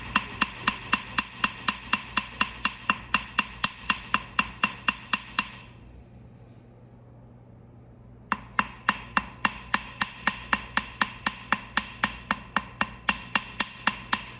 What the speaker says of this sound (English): I could hammer all day long by just making sure that my muscles are in good shape